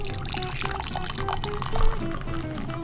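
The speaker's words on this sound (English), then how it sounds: "First we pour the soy, then we pour the coffee." Soy sauce and then coffee pour at a breakfast table, a close liquid splash and trickle against busy restaurant chatter and clatter.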